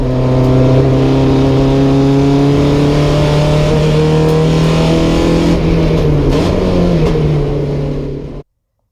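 A Porsche 944 Challenge race car engine drones loudly on track, holding a steady high-revving note from the cockpit with slight pitch dips through a shift or corner, then cutting off abruptly near the end.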